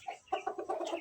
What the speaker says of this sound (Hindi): ये मुर्गी ने आज फिर अंडा देना है